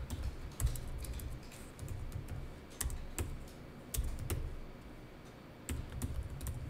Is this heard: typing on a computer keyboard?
yes